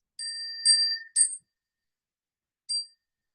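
A small ritual bell rings before bows to the Buddha, three quick bright strikes close together, then a pause and a fourth ring, each with a clear pitched shimmer in an otherwise silent room.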